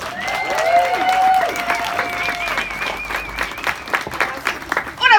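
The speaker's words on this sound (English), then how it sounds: "Give a big round of applause for Stina Solito." Audience applause and cheering at a live comedy show opening, broad steady clapping from a crowd with tonal feedback-like whistles over it, loud and sustained throughout.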